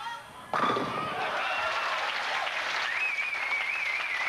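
A large Queensland crowd at a tenpin bowling match breaks into sudden applause after a quiet moment, the clapping sustained and fairly dense until the end.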